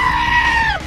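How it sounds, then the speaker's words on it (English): A goat lets out a single loud, close scream that sounds strikingly human, a sustained strained cry lasting about a second that bends downward as it ends. "A goat that is screaming like a human!"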